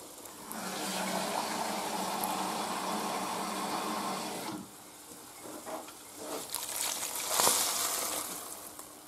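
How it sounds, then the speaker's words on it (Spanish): Water poured into a cooking pot for Zamora-style soup, a steady gushing stream for about four seconds, a pause, then a second splashing pour that swells and fades, close and with no talk. "Ahora echamos el agua"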